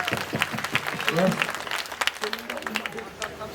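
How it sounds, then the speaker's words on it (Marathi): An audience claps for the village sarpanch at a home-minister style game show in Umbargaon, Pandharpur, a brisk scattered burst of applause with voices talking over it. "एकदा सरपंचांसाठी 2 हात वर करून टाळ्या वाजवा."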